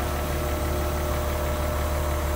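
A tractor engine idles close by in a wet hayfield during second-cutting of teff and alfalfa-grass mix, a steady low, vibrating drone with no variation in rhythm.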